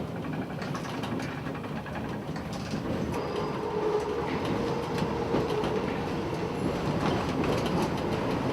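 A metro train rolls into a maintenance depot where the line's trains are repaired, a steady rumbling run of wheels on rails with faint clicks and squeals, continuous and fairly near.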